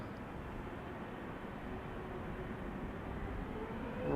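Boeing 787 Dreamliner taxiing at Amsterdam Schiphol Airport, a distant, steady low jet-engine rumble with a faint whine that swells slightly at the end.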